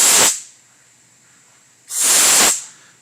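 Compressed air blasts into a used part in two short loud hissing bursts, each about half a second, separated by a quiet gap with a faint lingering tone.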